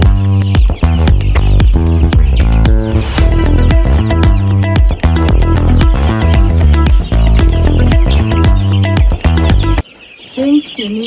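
Broiler chickens on a chicken farm clucking loudly and continuously in a dense, close chorus before the flock sound cuts off near the end.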